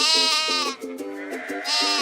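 A sheep bleats several times in quick succession, wavering calls close and loud with brief gaps between them.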